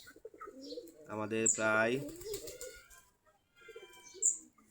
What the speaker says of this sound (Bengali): আমাদের দেশি গিরিবাজ কবুতর এখন দুপুরবেলা হয়ে গেছে। আমি খাবার দিয়েছি, খাবার খাচ্ছে।